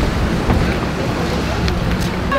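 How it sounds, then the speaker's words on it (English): A boat sits on the water near a village pier in Yelapa, Jalisco, with a dense, steady wash of wind and lapping water and a low engine-like rumble, loud and close throughout with no speech. "We're getting on the boat now."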